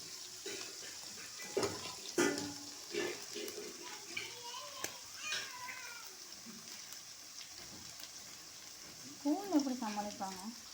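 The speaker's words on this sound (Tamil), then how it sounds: "வச்சுருக்கிற இஞ்சி, பூண்டு, வெங்காயம் இதெல்லாத்தையும் சேர்த்து வதக்கிக்கணும்." Ginger, garlic and onion sauté in a pan for a fried goat-head dish, giving a steady background sizzle broken by scraping stirs and several rising, cat-like meows.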